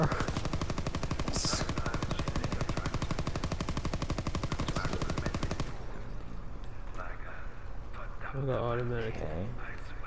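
Rapid automatic gunfire rattles loud and dense through the first half of a video game firefight, then gives way to quieter game sounds, with a voice talking over parts of it.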